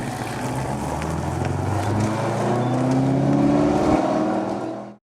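Chevrolet Corvette rolling back toward the garage, a loud, steady engine drone with revs rising and falling, close by and alone until it cuts off abruptly.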